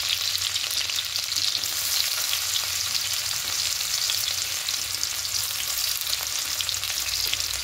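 Chopped garlic and ginger frying in hot oil for a pasta sauce, a loud, dense, continuous sizzle that holds steady throughout with no voices.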